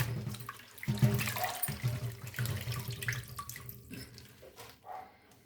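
Tap water runs steadily into a sink while prawns are rinsed by hand, a close splashing flow with small shifts and drips as the stream is interrupted.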